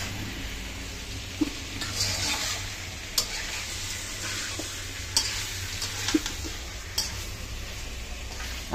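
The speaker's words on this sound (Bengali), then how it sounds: "লাল লাল করে ভাজছে, লাল হইছে" Food fries in a pan with a steady low sizzle, punctuated by sharp scrapes and clicks as it is stirred every second or so, quiet and close.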